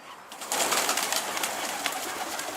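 Escaped pigeons landing at a rooftop coop, with soft cooing and fluttering over steady outdoor ambience, fairly close and continuous for a few seconds.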